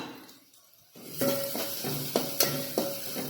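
Crushed garlic dropped into hot oil for an Udupi-style sambar, giving a loud burst of sizzling that settles into a steady fry with a few sharp spatters and stirring clinks, no voices.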